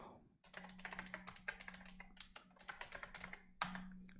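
Rapid, close typing on a computer keyboard, with bursts of crisp keystrokes broken by short pauses, alone without any voice.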